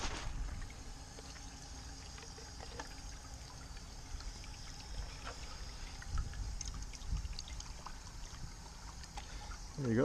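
A container fills with water from a running tap or hose outdoors while fish emulsion fertilizer is prepared, a soft steady trickle and pour under faint background sounds.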